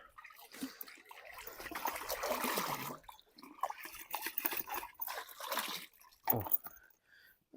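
Watery fishing groundbait mixture is poured out near reeds by a village pond, giving faint intermittent splashes and trickles in short bursts.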